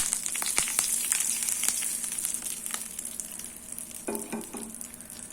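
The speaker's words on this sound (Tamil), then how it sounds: "இப்போ தாளிப்பை சட்னியில் போட்டுடலாம்." A hot tempering of urad dal and curry leaves hisses and sizzles as it is poured into kathamba chutney, a loud, steady frying crackle that slowly fades, with a few stirring clinks near the end.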